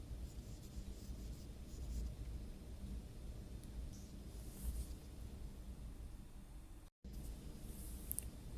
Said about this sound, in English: With your mid-range pencil, here in HB, start to shade in the areas of mid-tones on your apple